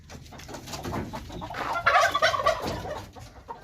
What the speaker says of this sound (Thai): ไก่งวงสองตัวนี้ก็ตีกันทั้งวัน